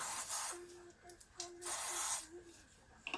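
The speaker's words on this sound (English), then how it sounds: "I'll put some WD-40 on it. Give it a squirt." WD-40 sprayed onto the fuel tank of a Chinese chainsaw, several short hissing squirts in an irregular rhythm, close by and fairly quiet.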